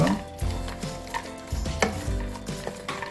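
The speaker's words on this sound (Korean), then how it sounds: "멸치하고 네, 아몬드 같이 넣고 양념을 섞어줄게요" Medium anchovies and almonds are stirred with seasoning in a pan: close, repeated scraping strokes and soft clatters of a utensil against the pan come in an uneven rhythm, with no talking.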